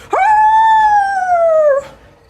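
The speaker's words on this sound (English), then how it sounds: "he howls at the moon" A werewolf sound effect gives a single long, loud, close howl at the moon, rising sharply and then holding a smooth wavering tone for nearly two seconds before it fades.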